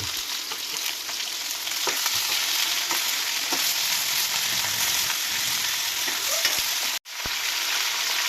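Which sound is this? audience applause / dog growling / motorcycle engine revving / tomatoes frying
tomatoes frying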